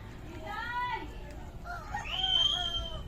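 A hatch grey henny rooster crowing in a backyard, two drawn-out crowing calls close by, a shorter one then a louder, higher one, over low background noise.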